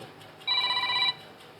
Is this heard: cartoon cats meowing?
no